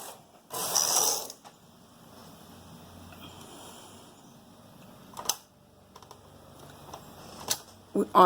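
A punch card knitting machine's carriage is pushed across a row of plain knitting, with no weaving, giving a loud close ratcheting clatter for about a second, then quieter mechanical clicks and rattles.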